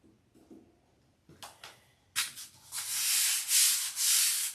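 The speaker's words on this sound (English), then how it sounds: "They're too afraid of sanding through it." Sandpaper rubs over doped lightweight silkspan covering on a model airframe, starting with a few soft strokes and building into loud, steady back-and-forth scratchy sanding passes up close.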